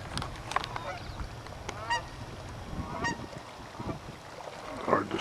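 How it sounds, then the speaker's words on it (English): Honking waterfowl calls near shimmering water at Puget Island, several short nasal honks spread through the clip over a low outdoor rumble of wind and water, fairly close but not loud. "Those are regular ducks there."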